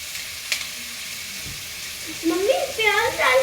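Onions fry in a pan with a soft, steady sizzle and some stirring while two people talk over it, a woman and a young voice.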